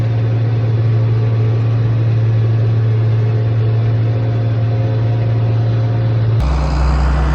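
A Challenger CH45 tractor runs with a loud, steady, deep engine drone at close range that holds constant, then shifts to a lower, heavier tone near the end.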